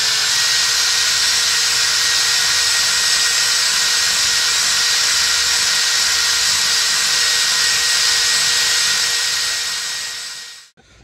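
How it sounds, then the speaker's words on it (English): An old differential cover is cleaned of glue with a small wire wheel on a power tool, a loud, continuous high whine and hiss held close for about ten seconds before spinning down to a stop. "is a little wire whiz wheel and just clean it up"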